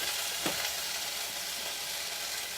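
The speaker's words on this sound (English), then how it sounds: "I'm gonna put the 8 ounces of cream cheese in a saucepan." Eight ounces of cream cheese heat in a saucepan, giving a steady, soft frying sizzle with faint stirring scrapes throughout, no voices present.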